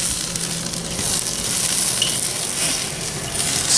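Smoked turkey thighs in Carolina Treet BBQ cooking sauce sizzle over direct heat on an elevated rack in a modified Weber 22.5-inch kettle grill, a steady, close crackling hiss with no talking.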